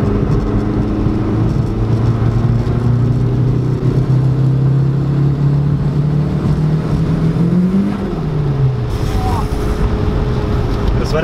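A VW Lupo 1.8T GT30 turbo, tuned to 335 hp, accelerates hard in third gear, engine note climbing steadily in pitch, then a brief drop as the revs fall near the end, heard from inside the car with voices talking over it.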